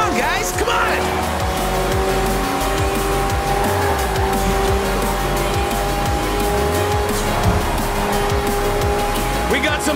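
Racing cars, hypercars and racing trucks roar through a Forza Horizon 4 street event, engines droning loudly with repeated tire squeals and skids, over a steady roar with a voice talking throughout.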